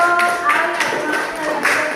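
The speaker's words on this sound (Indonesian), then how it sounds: "beri tepuk tangan dulu untuk" Applause from students in a high school history classroom: a short burst of scattered hand claps and taps, fairly close and moderately loud, with voices murmuring underneath.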